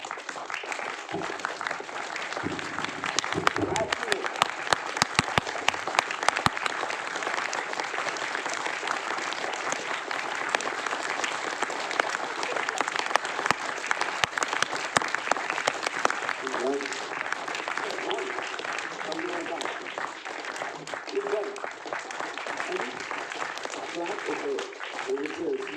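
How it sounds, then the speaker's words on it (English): An audience at a festival stage claps in a deliberately uncoordinated, dissonant way, a dense continuous wash of hand claps lasting the whole stretch, with a few voices over it. "Dissonant clapping."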